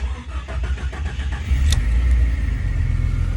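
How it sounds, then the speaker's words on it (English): A 2000 Jeep Cherokee XJ engine cranks with rhythmic starter pulses, catches, and settles into a loud, steady close-up idle. "this is just a video of the engine running"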